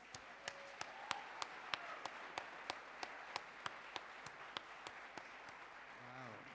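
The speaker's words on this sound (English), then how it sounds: "Now, applause." An audience at a talk on labor activism and farm worker health gives sparse applause, a run of distinct sharp claps at a steady rhythm, fairly faint and distant, with a voice briefly at the end.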